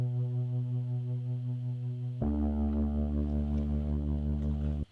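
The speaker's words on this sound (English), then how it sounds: "It has the whirly setting layered into it from my Reface DX." Whirly layered synth patch from a Yamaha Reface DX, a steady droning tone with a warbling, swirling texture that jumps to a fuller, brighter chord halfway through before cutting off at the end.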